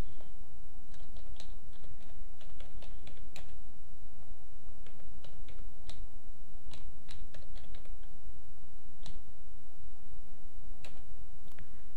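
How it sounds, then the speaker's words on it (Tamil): Steady typing on a computer keyboard while entering text into a wedding invitation card design, sharp clicks coming in uneven bursts over a constant low background hum, with no voices. "இப்போ நம்ம டைப் பண்ணலாம்."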